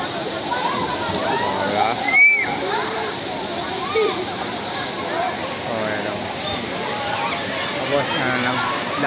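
Spring water flowing down at Bato Spring in San Pablo, Laguna, a constant loud rushing wash like a small waterfall, with people talking over it.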